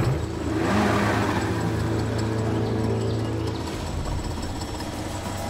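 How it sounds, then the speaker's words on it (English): A boat motor in a swamp, clogged by lilies, runs with a loud labouring drone that fades and bogs down toward the end, with faint bird coos in the background. "These lilies are clogging my motor. My motor's clogged up."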